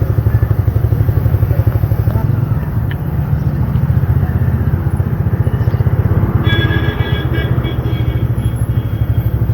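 A Bajaj Freedom CNG motorcycle rides along with a steady, loud engine drone and road rumble throughout, close to the listener, with faint light rattling and brief clatter on top.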